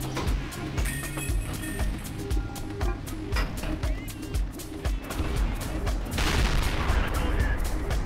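Tank guns firing in a World of Tanks battle, with repeated sharp booming shots and engine rumble; the loudest barrage comes near the end.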